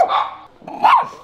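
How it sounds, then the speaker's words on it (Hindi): A dog barks close by outdoors on a sunny day, two sharp barks with a short pause between them, heard alone without talk. "ओरियो यहाँ भौंक रहा है"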